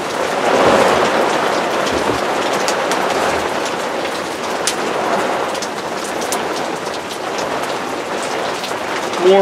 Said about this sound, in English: This is still letting some rain come in, but not as much as it was.